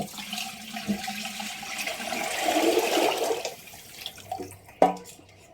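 Water runs steadily from a tap, splashing into a greasy baking tray for a few seconds before stopping, followed by a light clunk.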